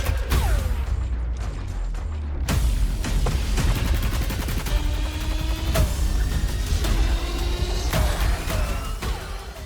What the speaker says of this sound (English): Next up, the Kvastov is back. Every 7th bullet will ricochet.